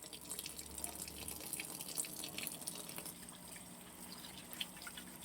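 Running water splashing and dripping while a pig's head is washed for cooking, a soft, close, continuous trickle with scattered droplet sounds.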